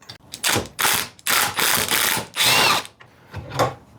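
A power drill removes a bolt from the front axle of a Toro TimeMaster mower in several loud, close bursts of whirring and ratcheting, separated by short pauses.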